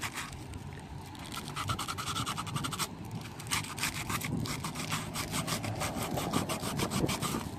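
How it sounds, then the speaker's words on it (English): Wet sanding of a GY6 scooter handlebar control part by hand: rapid, rhythmic back-and-forth scratchy rubbing strokes, close and steady throughout, with no talk. "It's called wet sanding, huh?"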